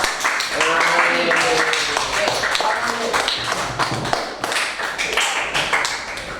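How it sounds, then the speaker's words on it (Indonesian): A classroom group claps and applauds after a presentation, with steady overlapping hand claps and taps filling the room, along with voices and chatter mixed in throughout. "kasih aplaus dan tepuk tangan buat"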